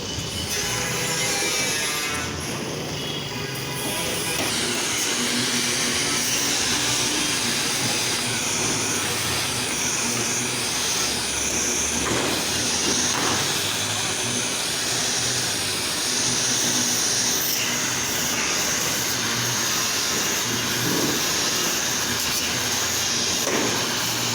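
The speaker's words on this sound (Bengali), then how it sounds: "এভাবে সুন্দর করে কাপ ব্রাশ দ্বারা ময়লাগুলো উঠিয়ে নিতে হবে।" Cup brush on a power tool scrubbing dirt off steel roof-slab shuttering formwork, a continuous loud whirring hiss with grinding scrapes rising and falling over time, no voices.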